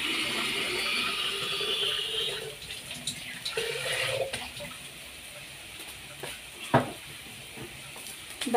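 Koshari is stirred in an oiled pot on the stove, giving a continuous sizzle with soft scraping stir sounds and one sharp clink partway through.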